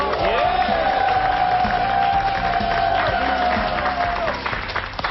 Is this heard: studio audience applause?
yes